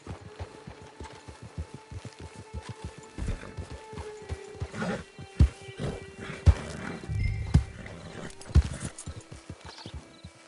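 Horse hooves clop across the ground in Red Dead Redemption 2, a steady trotting beat that slows and breaks up, with loud whinnies and snorts rising close by near the end.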